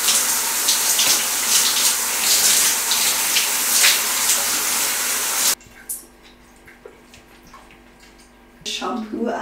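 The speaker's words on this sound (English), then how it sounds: "let's hop into the shower" Water runs steadily and loudly from a shower for several seconds, then cuts off, leaving a quieter room with small knocks and rustles before a brief splash of sound at the end.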